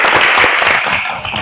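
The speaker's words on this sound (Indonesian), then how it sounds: "aplaus untuk kita semua" Dense, steady applause from a class group after a discipline lesson, loud and close, filling the whole moment with continuous clapping.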